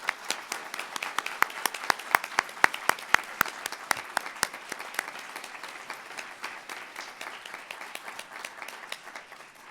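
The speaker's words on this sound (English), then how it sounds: "And I think now is the time for that round of applause." An audience at a mayoral election forum gives a round of applause, a dense, steady patter of many hands clapping that gradually thins and fades toward the end, heard alone without speech.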